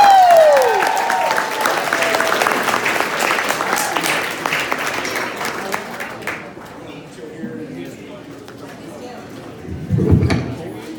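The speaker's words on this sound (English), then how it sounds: "please clap and welcome Kristen McKnight." A comedy club audience applauds loudly to welcome comedian Kristen McKnight, the dense clapping fading after about six seconds into a quieter room, followed by a brief low thump near the end.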